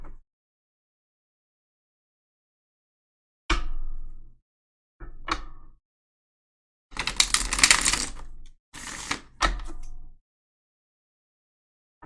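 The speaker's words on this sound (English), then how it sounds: "So let's go ahead and shuffle." A tarot deck being shuffled, heard as several separate bursts of riffling and card rustle, each lasting about a second, with quiet gaps between them and no voices.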